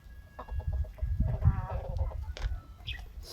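Native chickens cluck in short, repeated bursts close by, with a few louder squawks mixed in over faint background rustle.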